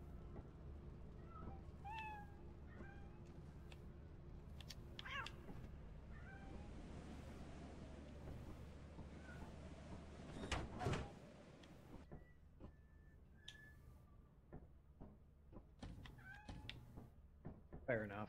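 Cats meow in modded Lethal Company, a few short, scattered mews spread across a quiet stretch with soft background hum, a sharp door-like clatter midway, and a person speaking now and then.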